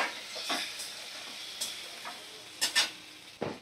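Eggs and potatoes frying in spiced oil, a soft steady sizzle broken by a few sharp crackles and clinks of stirring, fairly quiet and close, with no talking.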